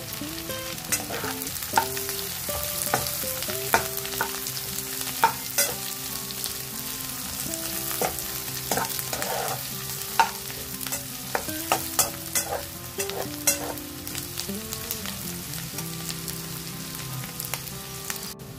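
Garlic and onion frying in oil in a pan for red chilli chicken, stirred continuously, with a steady close sizzle and frequent scraping and tapping of the spoon against the pan, no voices.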